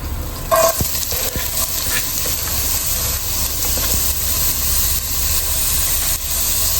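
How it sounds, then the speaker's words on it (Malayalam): Chicken sizzles and spits in hot oil with a steady loud hiss, a few clinks of a utensil stirring near the start. "ഫ്രൈഡ് റൈസിലേക്ക് വേണ്ട ചിക്കൻ നമ്മൾ വറക്കാൻ വെച്ചിട്ടുണ്ട്"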